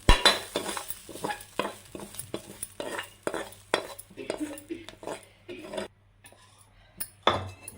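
Dry ragi and rice flour being stirred together in a bowl for drumstick-leaf ragi roti, giving a steady run of scraping, rubbing strokes with light clinks of spoon against the vessel, close and fairly quiet, with a low hum beneath.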